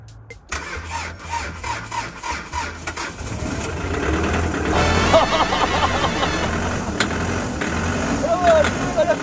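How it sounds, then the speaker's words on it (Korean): A car engine on a jump starter battery boost cranks in a quick rhythmic series of turns, then catches and settles into a steady idle, with faint voices in the background. "시동 걸어보겠습니다."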